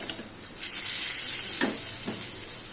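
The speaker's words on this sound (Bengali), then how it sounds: "এই পটলগুলো ভাজা হয়ে গেল, আমি এবার তুলে নিই সব পটল।" Pieces of pointed gourd (potol) finish frying in slightly darkened oil, giving a continuous crackling sizzle. Two brief, dull knocks, like a utensil against the pan, sound near the end.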